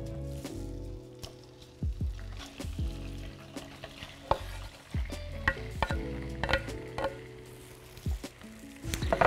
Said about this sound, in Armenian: ես արդեն կտրատել եմ հավի կրծքամիսը եւ հիմա պետք է տապակենք